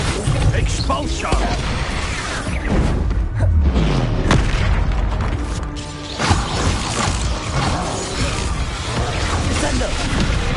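Expulso blast spell from Hogwarts Legacy, a loud booming explosion with a crashing burst amid dense, continuous game combat noise and other spell effects.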